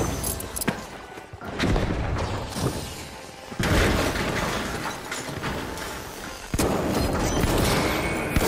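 In the video game The Finals, a frag grenade explodes amid dense, continuous gunfire, with heavy booming bursts punching through the steady rattle of shots and debris.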